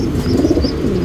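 A male pigeon of a fancy breed coos nearby, a low throaty rolling burble that is loud and close, with faint chirps in the background.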